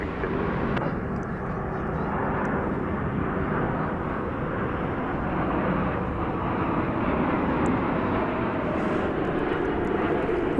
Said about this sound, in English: Well, we have a Dreamliner arriving.